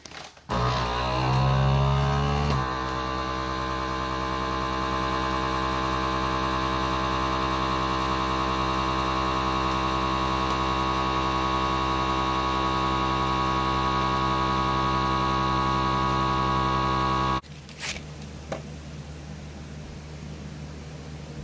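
A vacuum sealer's motor whirs with a steady mechanical hum for about fifteen seconds after a brief startup, sealing a bag of dried hops, then abruptly cuts off into quiet room noise.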